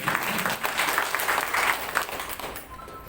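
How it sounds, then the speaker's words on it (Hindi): Applause from an audience at an artists' program, a burst of fairly close clapping that swells and dips in uneven waves before thinning out. "एक बार तालियों के साथ"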